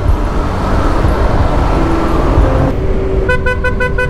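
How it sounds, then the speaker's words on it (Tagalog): Amid loud road traffic and engine rumble, a Honda PCX 160 scooter's horn sounds a sustained tone, then a quick run of about five short, sharp honks close by. "Lakas ang busina natin ha."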